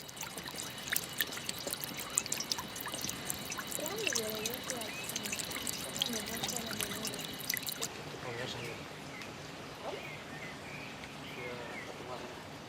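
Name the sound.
Alhambra garden fountain water, bird-like sound, Granada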